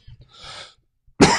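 A person gives one sharp, loud cough at the end, after some soft breathing and rustling noises.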